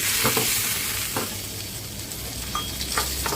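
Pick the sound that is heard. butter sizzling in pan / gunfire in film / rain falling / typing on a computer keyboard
butter sizzling in pan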